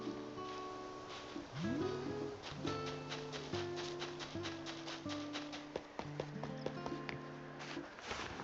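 Horse hooves clip-clop in a video game, a light, rhythmic patter of steps running throughout at moderate level, mixed with other soft in-game tones and effects.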